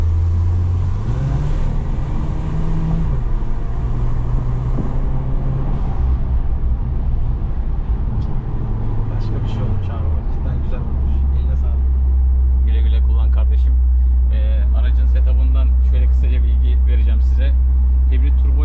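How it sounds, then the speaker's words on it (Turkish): Exhaust rumble from a Golf 7 1.4 TSI Stage 2 hybrid turbo, a steady deep drone that holds at idle and briefly shifts pitch, with a voice talking over it later on. "Egzoz sesimiz bilmiyorum videoda duyuluyor mu ama bir gürültü var sürekli."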